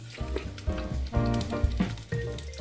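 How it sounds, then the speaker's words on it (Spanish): Chicken pieces sizzle and crackle in hot oil with a steady frying hiss, and tonal background sound underneath. "vamos a echar pues unos cuantos trozos"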